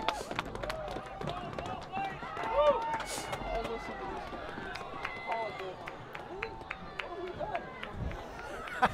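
Home crowd at a Prairie du Chien at Richland Center high school football game cheering and murmuring after a penalty, a broad distant roar with scattered shouts and whistles running steadily throughout.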